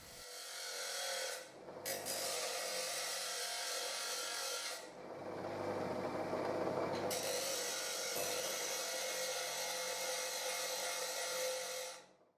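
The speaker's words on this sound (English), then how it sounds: "I have to grind the notch these clamps have in the end of the metallic guide" A metal guide of a cheap bar clamp has a notch ground into its end, giving a continuous harsh abrasive grinding that runs steadily for several seconds, with brief pauses in between, close and alone.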